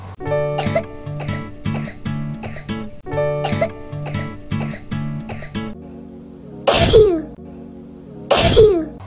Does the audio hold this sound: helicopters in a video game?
no